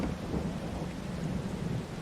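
Rain and rolling thunder from the Farming Simulator 22 game on a Brazilian estancia farm, a steady loud rumble with dense patter of rain throughout, no voices.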